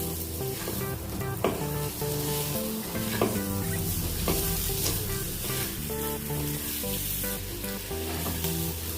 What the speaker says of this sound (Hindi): थोड़ी सी हींग डाल देंगे, अच्छे से मिक्स कर लेंगे।